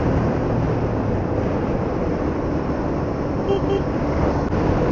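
A loaded motorbike or two-wheeler on the highway with its weight pulling to one side, steady engine and road rumble with wind noise, continuous and close, with no distinct voices.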